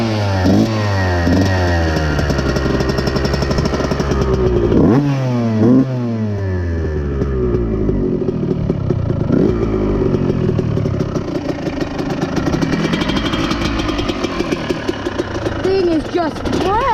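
A dirt bike engine idles loudly nearby and is revved several times, the pitch sweeping up and falling back before settling into a rough, steady idle, with a voice talking over it.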